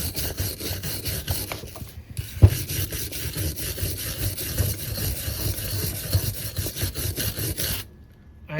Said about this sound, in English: I'm going to take the wire brush and just go at it.